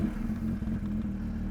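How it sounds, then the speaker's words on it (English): Porsche 911 GT3 RS motorsport engine held at a steady high idle-to-rev drone while stationary, loud and close with a low rumbling tone, alone without talk. "the GT3 RS would just sound so much better when you rev it when stationary"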